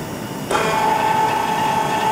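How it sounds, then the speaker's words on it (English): A Rotork self-contained electrohydraulic actuator drives a valve closed after losing its control signal, switching on abruptly into a loud, steady whine with a sustained tone that keeps running to the end. "the position of the actuator changes to zero and the valve closes"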